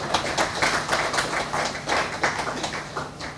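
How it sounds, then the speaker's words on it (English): An audience at a cyber crime workshop's inaugural address applauds with a dense, even patter of many hands clapping, moderately loud and continuous throughout. "Please give a round of applause."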